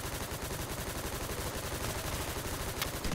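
Gunfire in a video game crackles in a dense, continuous stream of rapid shots, steady and moderately loud.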